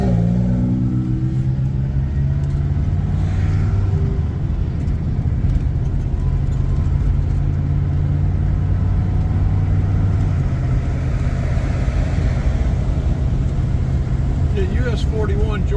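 A car drives along the Georgia 120 loop in Marietta, its engine and road noise steady throughout as the automatic transmission shifts up and down, with faint voices talking over the continuous drone.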